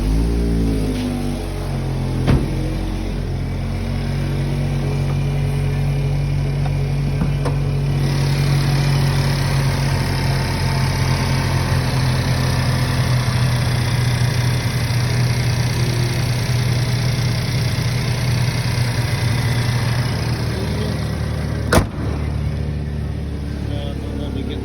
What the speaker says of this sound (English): I'm going to start it up so you can hear the engine.